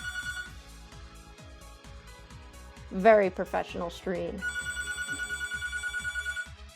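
A phone rings in the video game Hatoful Boyfriend, with a repeating electronic bell tone pulsing steadily throughout, briefly under a voice talking midway.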